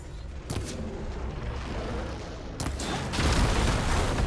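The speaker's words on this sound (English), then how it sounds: "Let's see if we can get all these machine guns too." Machine guns fire in Horizon Forbidden West as a dense, continuous roar of gunfire with sharper bursts. It swells louder toward the end.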